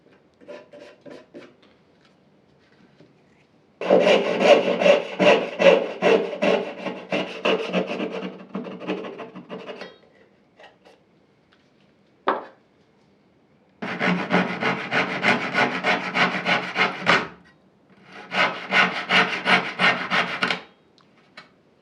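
Hand saw cutting a wooden dovetail by hand for a side hall table, heard as three long bursts of steady rasping back-and-forth strokes, close and loud, with a short knock and quiet pauses between.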